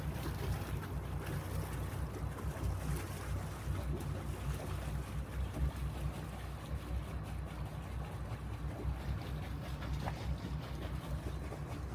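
A boat engine at the dock, fitted with a Dockmate wireless remote docking system, runs close by with a steady, loud low rumble and a wash of water and wind noise that holds unbroken throughout.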